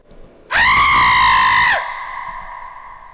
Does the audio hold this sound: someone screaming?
yes